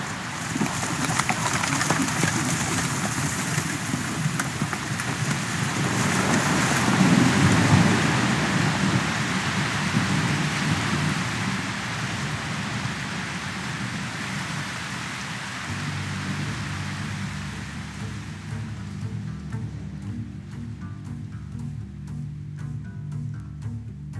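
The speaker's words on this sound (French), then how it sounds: "il commence à pleuvoir." Steady rain pours down with faint thunder rumbling beneath, swelling louder midway, then thinning into lighter, more scattered drops and tonal background noise toward the end; no one speaks.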